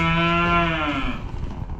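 A single loud, close cow moo on a farm, a drawn-out bawl that falls away after about a second into quiet farmyard background.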